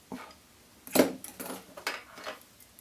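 Scissors trim a deer hair post on a drake fly being tied, giving a few close, crisp snips and small metallic clicks at irregular intervals, with the loudest cut near the start and faint handling noise between.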